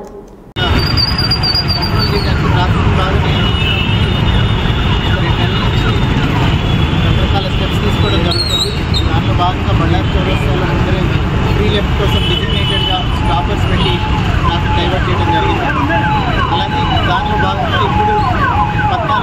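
Police vehicle sirens wail, rising and falling repeatedly over steady traffic rumble, loud and continuous, with people talking underneath.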